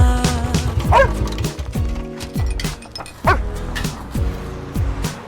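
A puppy barks and yips repeatedly at close range, sharp bursts spaced irregularly with a whimpering, whiny tone between them, over soft background music.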